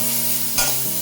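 Butter sizzles in a hot kadai with a steady close frying hiss, a brief louder burst of crackle partway through as it is stirred; no talk.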